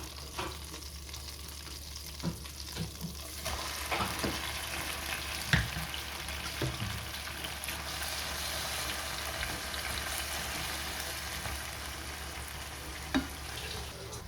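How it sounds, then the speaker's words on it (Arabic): Onion frying with concentrated tomato paste in a pan while making Algerian mhadjeb filling: a low, steady sizzle with occasional stirring clicks and scrapes, close and quiet, no one speaking. "كي تقلي الطماطم بيان مركزه نزيدو معاه البصل."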